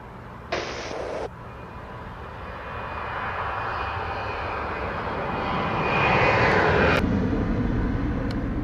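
A fixed-wing airliner's engines roar on runway 07 at Montego Bay, a loud, broad, continuous rumble that builds steadily as the takeoff run proceeds, heard from nearby with no talk.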